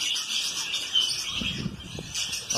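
Parakeets in a breeding aviary chirp in quick, bright bursts, several birds overlapping at moderate distance, with faint low rustling or movement underneath and no speech.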